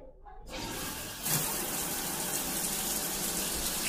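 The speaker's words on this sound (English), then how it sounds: "we're going to turn the shower on it" Shower water sprays onto a plastic storage box in a steady hissing rush that begins after a quiet moment and grows stronger when the flow hits it fully, close and continuous.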